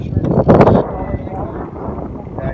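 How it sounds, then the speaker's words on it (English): A strong wind gust buffets the microphone at the outdoor Camp Perry shooting range in Ohio, a loud rushing roar that swells briefly and then settles into a steady blustery rumble. "And there's another pretty good gust."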